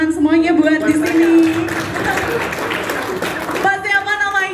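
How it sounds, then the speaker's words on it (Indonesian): Applause from an audience at a cleanliness and sanitation tutorial event for tourist destinations in Jember, a few seconds of dense clapping with a voice speaking over it before and after. "Kita beri tepuk tangan semuanya buat di sini."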